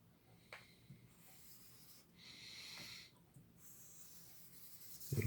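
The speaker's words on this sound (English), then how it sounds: "the ink slowly penetrates this felt tip, and it's starting to write now." Felt tip pen scratching and rubbing across paper in short intermittent strokes, faint and close, with quiet breathing-like hiss between strokes and no talk.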